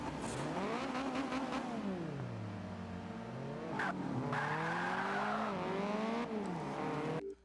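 A Subaru BRZ racing in Forza Motorsport 5, its engine revving up and down through gear changes with tire squeal and skidding, steady and loud with no talking.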